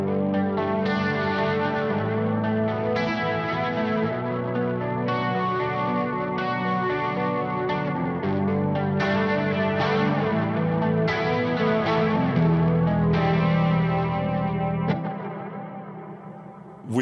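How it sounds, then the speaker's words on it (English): Sustained guitar chords through a reverb pedal on a pedalboard, washed in lush reverb and chorus, swelling and ringing out in long shimmering tails, loud and alone. "Beautiful reverb."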